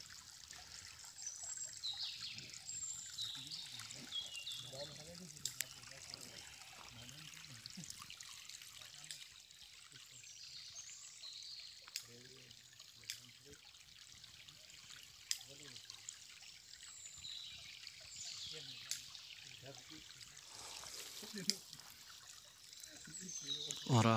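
Spring water trickles steadily from a mountain spring along a walking route between Bosnia and Italy, a soft continuous dribble heard under occasional nearby talk.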